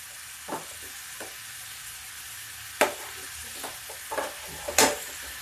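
Potatoes tossed with masala in a pan on a high flame give a soft, continuous sizzle, broken by occasional sharp scraping stirs of a spoon against the pan at irregular intervals.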